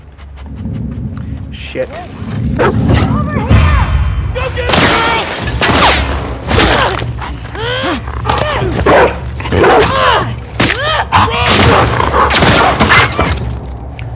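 A dog in The Last of Us Part II barks and whines loudly in short, repeated bursts amid crashing impacts and gunfire-like bangs, with a person's voice speaking over the action.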